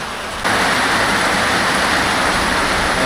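Heavy rain pouring down steadily, a dense, loud, unbroken roar that starts abruptly and stays constant throughout, close by, with no voices.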